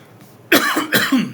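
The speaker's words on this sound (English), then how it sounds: "Sorry, I cough a lot, man." Two harsh, loud coughs in quick succession break a near silence, sounding close and raspy.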